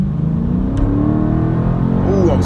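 A 2018 Dodge Challenger Scat Pack accelerates hard, its engine a loud, close, rising roar that builds steadily from start to finish.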